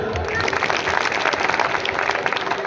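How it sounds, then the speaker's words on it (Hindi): Loud applause at a college program honouring a guest, a dense continuous burst of clapping from an audience, near and steady throughout. "जोरदार तालियां"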